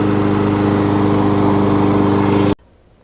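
A Murray lawn mower engine transplanted onto a Craftsman deck runs loud and steady at close range with a constant droning hum, then cuts off abruptly near the end, leaving quiet.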